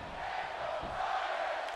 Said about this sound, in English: Crowd here trying to cheer on Daniel Bryan however they can.